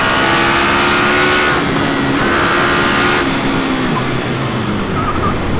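A KTM Superduke 1290 R twin-cylinder motorcycle engine revs loud and close, its pitch climbing through several rising pulls with brief shifts between them, heard alone without talk.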